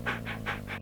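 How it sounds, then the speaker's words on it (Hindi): A dog pants in a film scene, four quick rhythmic breaths, close and fairly loud, then the sound cuts off abruptly. "हाय कोबरा, इस घर में एक कुत्ता है।"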